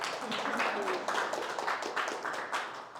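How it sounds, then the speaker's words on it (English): A small tech-talk audience gives a short round of applause, scattered moderately quiet claps lasting a few seconds. "So big round of applause for us."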